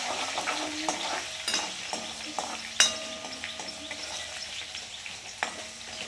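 Green chillies and ginger-garlic paste are stirred and fried in a pan for dal dhokli, with a steady oily sizzle broken by repeated sharp clinks and scrapes of a spoon against metal.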